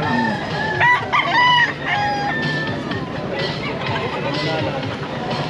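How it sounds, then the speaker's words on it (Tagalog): Chickens and roosters crow and cluck at the Bocaue pet market, several loud crows rising over a steady market hubbub, with people talking throughout. "Yan, daming manok."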